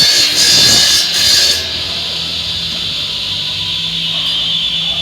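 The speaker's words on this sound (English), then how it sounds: "this is going to be my first pass on my dado" A dado blade takes a first repetitive pass through wood, cutting a groove: a loud, steady high-pitched whine that swells with the bite at the start, then holds constant and alone.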